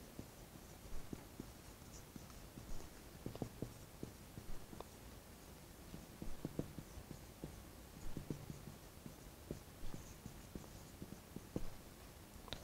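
Pen or chalk strokes as laws are written out during a physics lesson, a steady run of soft scratching taps over a quiet room hiss, with no talking.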